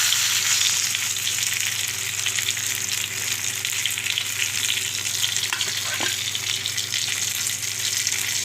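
Paarai fish fries in a pan of hot oil over a medium flame, a loud dense crackling sizzle that runs steadily throughout, with a brief clink of a utensil near the end.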